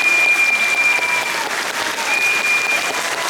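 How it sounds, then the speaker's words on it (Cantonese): An audience applauds Cantonese opera performers at a curtain call at the Sunbeam Theatre in Hong Kong, a loud, sustained wash of clapping that stays steady throughout, with a faint thin tone running through it. "所以我哋再一次俾掌聲香港嘅粵劇界嘅老倌們"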